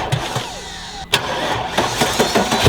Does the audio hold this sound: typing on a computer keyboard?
no